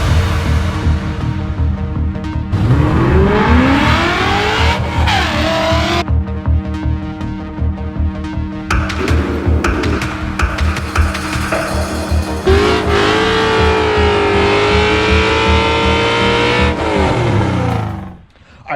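A loud Coyote V8-swapped Fox Body Mustang engine roars and revs repeatedly, pitch climbing and dropping through gears, with squealing tires at times, before cutting off at the end.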